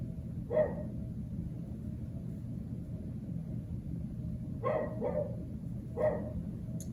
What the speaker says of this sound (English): And that'll be my trusty little puppy buddy.